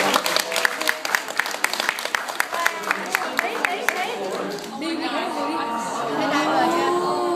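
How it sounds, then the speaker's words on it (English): An aquarium audience claps for the dive spotters, sharp hand claps standing out over crowd chatter before the clapping gives way to voices and murmuring. "let's give our dive spotters a round of applause"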